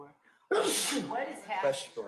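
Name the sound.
sneeze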